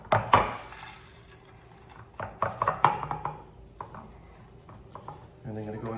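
Pieces of fish for dry-curing before smoking are flipped over in a container, giving a few sharp clatters and knocks with quieter handling noises between them.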